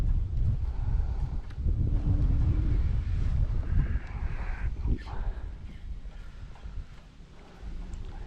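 Wind buffets a microphone out on a river basin during a sea trout fishing trip, a low rumbling roar that gusts and eases throughout, with faint water and boat sounds beneath.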